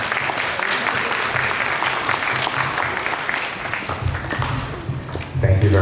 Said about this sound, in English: you can clap louder